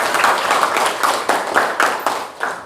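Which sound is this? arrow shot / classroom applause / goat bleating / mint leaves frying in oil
classroom applause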